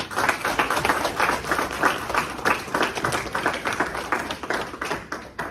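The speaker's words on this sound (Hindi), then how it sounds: "एक बार दिनेश जी के लिए जोरदार ताली" Seminar audience giving a participant a hearty round of clapping, sharp individual claps forming a lively rhythmic patter at close range, continuous and fairly loud from start to finish.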